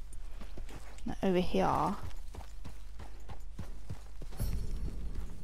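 Steady clip-clop of a Morgan horse's hooves in an even walking rhythm in the video game Red Dead Redemption 2, with someone talking over it.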